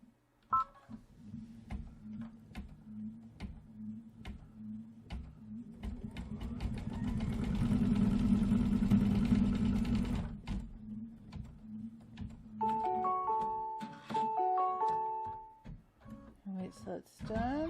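An embroidery machine stitches a kickstand design in silver thread with a quiet, rapid, regular clatter that swells in the middle, followed near the end by a run of short electronic beeps.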